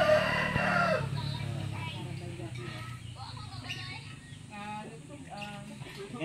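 A rooster crows early on, followed by scattered clucking from chickens at a farmyard home, with people talking over the birds throughout.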